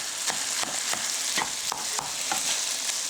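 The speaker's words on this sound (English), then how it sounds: "We're gonna let this right here keep on simmering." Homemade pasta sauce in a pot gives off a steady bubbling sizzle, with regular scraping stirs every fraction of a second, close and moderately loud with no talking.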